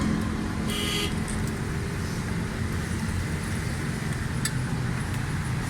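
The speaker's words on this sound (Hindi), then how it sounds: "अभी गाड़ी स्टार्ट करके चेक करवाते हैं।" A Maruti Suzuki Baleno with new spark plugs and an rpm up-and-down, tappet noise and fuel fault runs after starting, giving a steady close engine drone with faint clicks and distant traffic.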